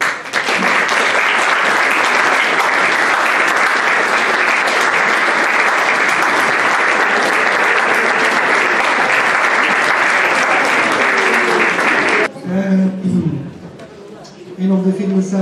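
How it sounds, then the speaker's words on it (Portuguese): At a Christmas concert in a conservatory hall, the audience breaks into loud, sustained applause for about twelve seconds, then it stops abruptly and a voice starts speaking. "Um salve de palmas para ele."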